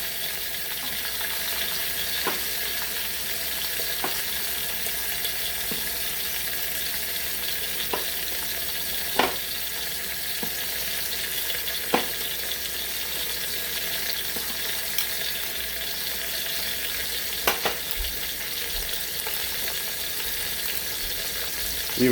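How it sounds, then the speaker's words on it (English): Garlic sears in a pan alongside a pot roast, a steady close sizzle and crackle running throughout with a few faint clinks, no voices. "I'll throw a couple more pieces of garlic in here just to sear."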